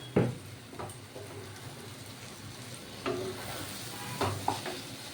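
Hot water added to a frying mushroom masala, a steady soft sizzle under repeated clinks and scrapes of a spoon stirring in the pan, fairly quiet and close.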